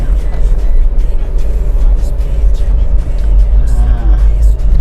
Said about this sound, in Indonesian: Nih kita nanjak dulu, kita lewat jalan-jalan kampung ya teman-teman ya.